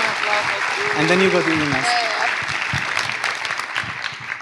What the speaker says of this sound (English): thank you again give him a round of applause,